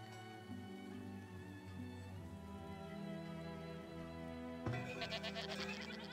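Goats bleating on a pasture in the farming city-builder game Farthest Frontier, faint calls layered over steady background music, with a louder burst of sound near the end.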